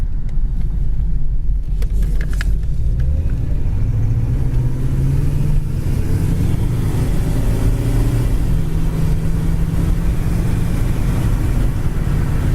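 A blue 1979 Lincoln classic car accelerates and then cruises down the road, its engine a loud, steady low rumble with rising pitch as it picks up speed, alongside continuous road and wind noise from inside the cabin.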